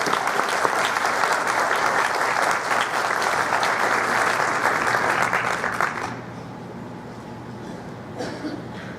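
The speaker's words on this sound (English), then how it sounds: "Please give them a round of applause" Loud, sustained applause from an audience at a veterans' program honoring local veterans, dense clapping for about six seconds before cutting off abruptly, leaving a quiet room with faint murmurs.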